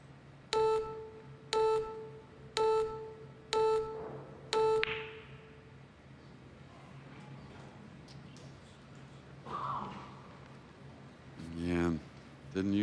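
A pool shot clock at the 2024 US Open Pool Championship semi-final sounds five evenly spaced, sharp electronic beeps about one second apart, followed by quieter room noise and brief crowd or table sounds.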